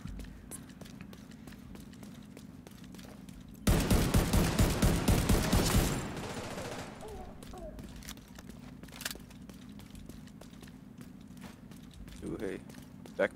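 A rapid burst of automatic gunfire lasting about two seconds rings out loud and close from a gun in Division 2, followed by quieter game ambience with faint scattered clicks.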